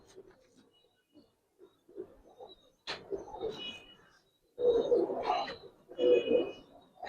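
A male pigeon coos in two or three soft, throaty bursts close by, after quieter rustling and brief murmured voices.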